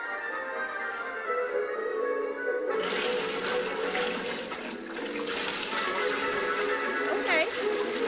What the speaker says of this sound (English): Water was starting to pour into the ship.